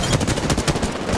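Rapid automatic gunfire in the video game Apex Legends rattles as a dense, loud, continuous burst of shots, filling the whole moment with no talk.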